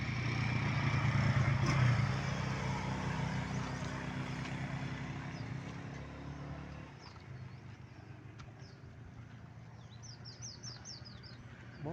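A motorcycle engine rumbles loudly close by at first, then fades steadily as it moves away, leaving quieter outdoor ambience with scattered bird chirps.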